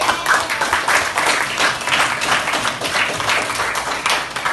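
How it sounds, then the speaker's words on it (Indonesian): A group claps and applauds continuously, a dense steady patter of many hands filling the whole stretch. "tepuk tangan untuk kita semua ya"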